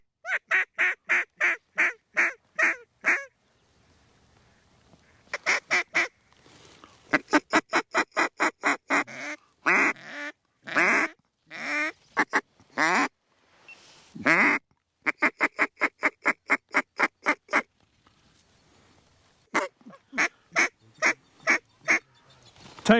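Ducks call during a duck hunt: loud, close quacking and honking comes in rapid bursts of a dozen or so calls, separated by short pauses, with no talking.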